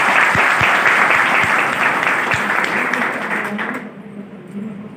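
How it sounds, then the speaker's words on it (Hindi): Loud applause from a seminar audience in Kathua, dense and sustained for about four seconds before thinning out and fading, with a few sharper claps standing out. "मैं चाहूँगा हम सब लोग एक बार जोरदार तालियां बजाएं"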